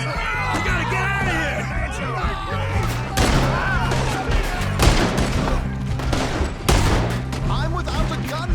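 Gunfire breaks out in Red Dead Redemption 2, with sharp shots and bursts scattered among shouting voices and music, loud and close.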